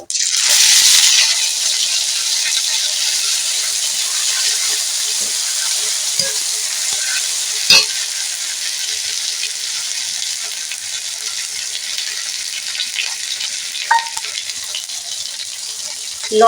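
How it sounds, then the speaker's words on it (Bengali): Cumin seeds frying in a pan for banana-flower ghonto, giving a steady, close hissing sizzle that runs throughout, with occasional light clinks and scrapes of stirring. "এরপর জিরেটাকে ভেজে নেব"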